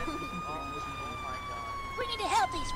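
An ambulance siren in the video game Arma 3 wails steadily with a slowly falling pitch in the background while people talk excitedly over it in the foreground.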